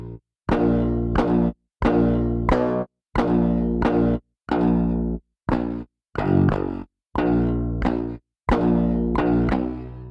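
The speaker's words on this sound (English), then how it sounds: "The guitar plugin that I'm using is the Shreddage 3 Hydra" A double-tracked Shreddage 3 Hydra MIDI guitar with the pick attack maxed out, played as a dry, unamped DI signal: loud, chugging palm-muted chords in short bursts separated by abrupt silences, with no other sound.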